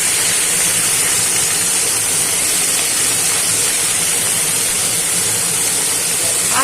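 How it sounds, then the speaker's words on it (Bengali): Vegetables hit a hot pan of fish-head and pumpkin curry with a loud, steady sizzling hiss that holds at close range throughout. "এর মধ্যে আমি এই দেখুন সবজিগুলো দিয়ে দিলাম"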